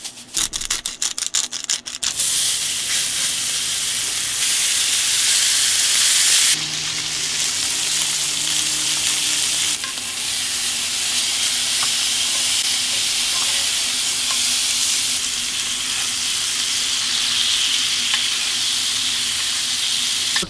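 Beef ranch steaks fry in a pan on a propane stove inside a van, a steady broadband sizzle and hiss running throughout with a brief clatter at the start and a low hum partway through.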